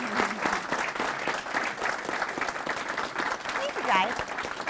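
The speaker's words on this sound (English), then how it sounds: "Let's give her another round of applause." Horror convention panel audience in Calgary applauding guest Danielle Harris, a steady crowd of clapping with voices and a cheer cutting through it.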